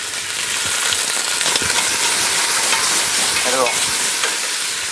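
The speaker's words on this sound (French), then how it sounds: "on fait souvent sauter revenir les viandes avant de les mettre en cuisson" Chicken meat sautéing in a hot pan for a coconut-milk and black-mushroom dish, a steady close sizzle and fry with stirring scrapes throughout; a voice speaks briefly.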